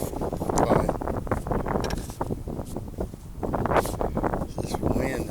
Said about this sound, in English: This wind that makes you cold.